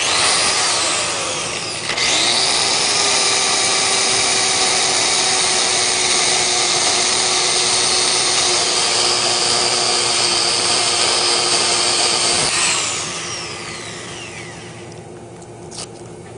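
Power sander working the underside foot of a wooden piece at 600 grit, a steady loud whine with a rising start around two seconds and a winding-down fade near the end.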